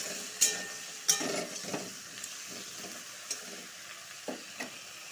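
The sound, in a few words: stirring vegetables frying in a pan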